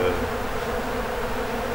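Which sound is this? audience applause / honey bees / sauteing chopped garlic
honey bees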